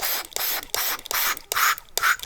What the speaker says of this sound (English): I kind of just cheat and then just start spraying it like that inside of the bottle